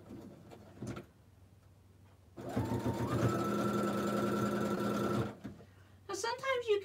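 A sewing machine stitches a quilt block seam for a Sawtooth or Evening Star block, running steadily for about three seconds with a droning whir, preceded and followed by brief talk.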